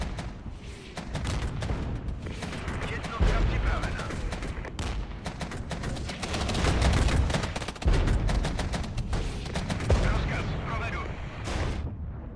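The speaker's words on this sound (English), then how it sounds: "Shots coming across from the T-55s are nice." Tank gunfire from T-55s in the Regiments wargame rolls through a busy battle, with heavy booming shots and dense overlapping gunfire sounding again and again at a steady loud level.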